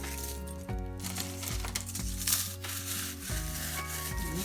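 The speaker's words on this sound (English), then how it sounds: "Sleeve of Ritz crackers, and you're going to crush them." A sleeve of Ritz crackers is crushed in a series of close, dry crunching and rubbing noises, heard over steady background music.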